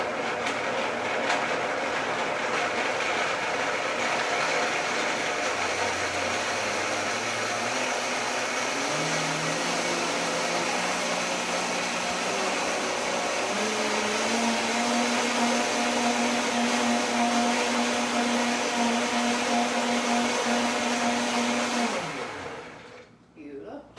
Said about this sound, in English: So this is gonna whirl up on my blender.